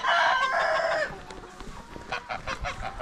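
Free-range chickens outdoors in a -20 degree winter, hens clucking and squawking loudly at first, then a looser run of softer clucks and calls close by.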